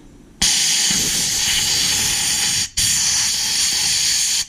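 An air gun fitted with clear tubing blasts compressed air into a junkyard LS truck engine to clear out gunk, a loud, steady roaring hiss in two long bursts separated by a brief cutoff, close by, with no talking.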